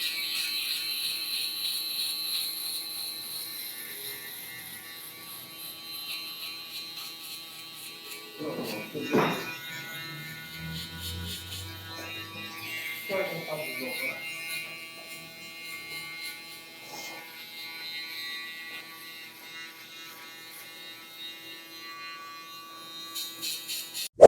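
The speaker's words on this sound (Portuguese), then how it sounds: "Douglas, o que é a shaver? É essa máquina aqui, ó" Electric shaver buzzing steadily while finishing a haircut and lining up the edges at a barbershop, a thin whir under someone talking throughout.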